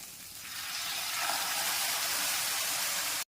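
Chicken curry gravy hits a hot pan of beaten egg and sizzles loudly, a steady broad hiss that swells quickly, holds, then cuts off abruptly.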